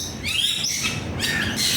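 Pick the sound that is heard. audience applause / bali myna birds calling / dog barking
bali myna birds calling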